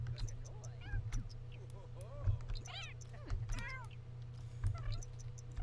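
Cats in the Sims game meow and caterwaul while mating, a string of rising and falling cries of varying loudness over a steady low game soundtrack, with talk in the background.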